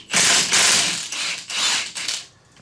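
Ratchet wrench with an 18mm socket backing off the stock tie rod nut on a Polaris RZR Turbo, a loud, close run of rapid pawl clicks in several bursts with brief pauses, fading at the end.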